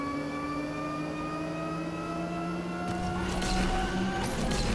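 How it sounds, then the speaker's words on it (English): Audi R8 e-tron engine in the racing game Asphalt 8, a steady electric-style whine whose layered tones keep climbing in pitch, with a burst of skidding and crashing noise near the end. "the engine sound, it's very peculiar. It's that auditive trick that it seems like the pitch is ever increasing"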